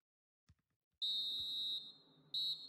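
Referee's final whistle in the FIFA video game: a short tap, then one long piercing blast lasting nearly a second, followed by a second shorter blast, loud and clear with no talk.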